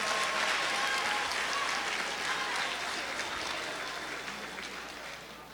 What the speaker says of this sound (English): So let's all give ourselves one big round of applause.